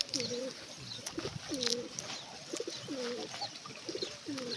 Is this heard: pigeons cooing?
yes